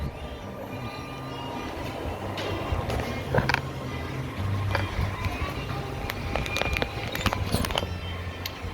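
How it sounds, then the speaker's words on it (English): A motorized bicycle engine runs with a loose, under-tightened clutch, giving a sluggish, steady low drone under wind and road rumble and a few sharp rattles during the ride. "I need to tighten up my clutch some more. You can see it's real sluggish with the clutch engaged."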